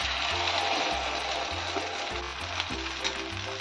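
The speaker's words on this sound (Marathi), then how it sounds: "हे आप्पे छान आपण शिजवून घेणार आहे।" Appe batter sizzling in a pan over a medium flame, a soft, even frying hiss with faint clinks and scrapes of utensils, heard close and quiet.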